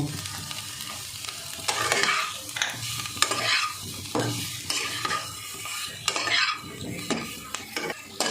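Butter garlic potatoes seasoned with black pepper powder are stirred in a pan, giving steady scraping and clinking of a spoon against metal over a soft continuous sizzle, with no voices.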